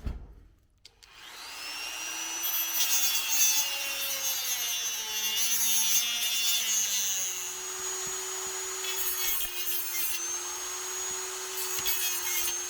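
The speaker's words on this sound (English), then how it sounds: "There's probably about 10 more minutes of me with the Dremel tool cutting that plastic back" Dremel rotary tool cutting back plastic, a continuous high whine with a shifting pitch and rough grinding texture, close and steady for about eleven seconds after a brief start.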